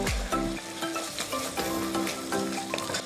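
Ginger garlic paste fries in a hot pan of oil for prawn biryani, giving a steady close sizzle with spoon stirs and scrapes throughout, with no voices.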